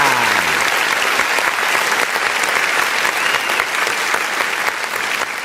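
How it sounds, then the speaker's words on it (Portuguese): A studio audience breaks into steady, dense applause throughout, loud and continuous, with a brief voice tone at the very start fading beneath the clapping. "Receba os aplausos do nosso auditório"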